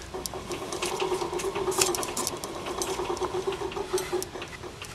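An AI-25 turbofan's high-pressure spool being turned over on a disassembled engine with damaged turbine blades, giving a steady, close whirring with a constant tone and light fluttering clicks throughout.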